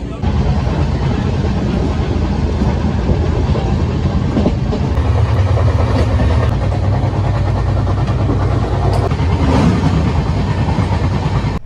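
An Indian Railways express, the Danapur Jansadharan Express, sits stopped at Bareilly City station, giving a loud steady rumble and hum of railway noise with occasional clanks throughout and no voices.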